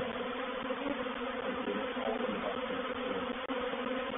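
A swarm of honey bees around a hive box hums in a steady, dense buzz, fairly faint and continuous, with no talking.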